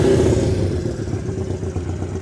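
A 1965 Honda Dream Benly 150 motorcycle's small engine revs up close, giving a throaty, burbling note that swells briefly and then eases back.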